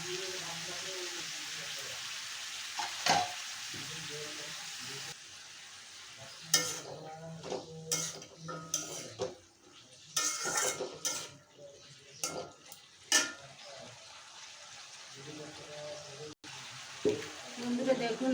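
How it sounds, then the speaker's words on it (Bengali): Bottle gourd greens and potatoes being stir-fried in a pan, with intermittent scraping and clinking of a utensil against the pan over a soft background sizzle, louder bursts of stirring in the second half. "আমি এভাবে শাক আর আলু কিছুক্ষণ কষিয়ে নেব।"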